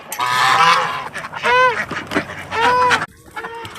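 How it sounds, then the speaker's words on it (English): Farmyard geese honk loudly and close by in several bursts, mixed with clucking chickens, with brief pauses between the calls. "Don't be scared of the geese."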